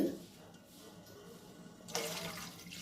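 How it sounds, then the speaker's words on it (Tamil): Low watery murmur, then a sudden rush of three tumblers of water pouring into a cooking pot near the end, close and fairly loud, while making Thiruvathirai kali. "மூணு டம்ளர் தண்ணி நான் சேர்க்குறேன்"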